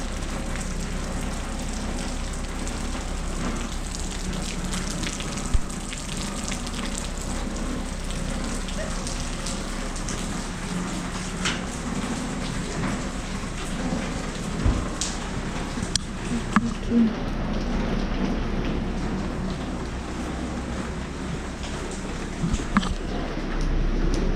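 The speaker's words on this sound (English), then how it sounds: "It's raining today." Winter rain falls steadily outdoors near the Cango Caves in South Africa, a constant wash of patter with occasional louder drips and taps, heard at a moderate level without talking.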